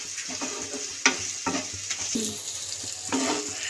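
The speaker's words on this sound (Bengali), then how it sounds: "হলুদের গুঁড়ো, লঙ্কার গুঁড়ো কাশ্মীরি দিয়ে আবার বেশ কিছুক্ষণ ধরে নাড়াচাড়া দেবো।" Turmeric and Kashmiri chili powder are stirred into a frying paneer masala in a pan, with repeated close scraping strokes at a steady pace over a continuous oily sizzle.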